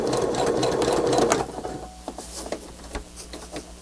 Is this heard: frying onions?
no